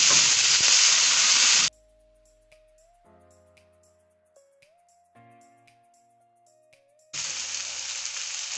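Onions with vanilla stalks fry in a pan, giving a loud sizzling hiss that stops for several seconds of quiet tones before the sizzle returns just as loud.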